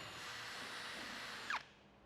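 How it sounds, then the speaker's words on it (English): A 22mm hole saw on a power drill cuts straight down through the plastic cup holder of a 12V Kings portable fridge, a steady close whine throughout that ends in a brief sharp squeal near the finish, with no talk. "send your 22mm hole saw straight down through the cup"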